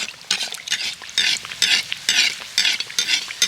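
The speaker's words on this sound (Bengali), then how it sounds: "এবার তেলের মধ্যে আমি পুরিগুলোকে ছেড়ে দিচ্ছি।" Aloo puri fry in hot oil, giving a close, loud sizzle that swells and fades in quick rhythmic bursts as the puris are stirred and turned.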